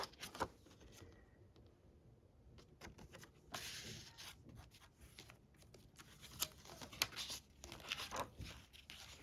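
Paper rustling and crinkling as the edge of a journal page is folded in, a run of close, dry crackles and scrapes with brief pauses.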